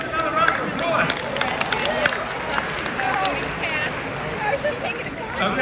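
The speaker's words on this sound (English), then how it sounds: "give yourself another round of applause" Workshop audience giving a round of applause, dense clapping mixed with crowd chatter and voices, steady and fairly loud throughout.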